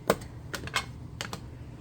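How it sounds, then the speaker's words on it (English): A rubber stamp presses onto paper laid out for stamping in a junk journal craft session, making several short, close taps in an irregular rhythm with quiet gaps between them. "So I'm just going to lay a piece of paper down, that way I can stamp off and around."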